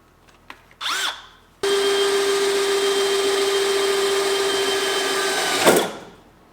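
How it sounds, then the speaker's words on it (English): A power drill revs briefly, then runs steadily for about four seconds boring a hole for a grommet in a 1960 Auto Union car before winding down; close and loud, no speech. "So I need to drill a bigger hole"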